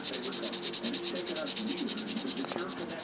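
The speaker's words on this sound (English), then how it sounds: "just very fine sandpaper" Very fine sandpaper rubbed over a finished Gunpla plastic model, a close, rapid and steady rhythm of short scratchy back-and-forth strokes that eases slightly at the end.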